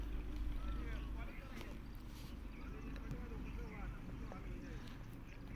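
A tractor engine in a farm field: a faint, steady low drone that holds level throughout, heard at a distance.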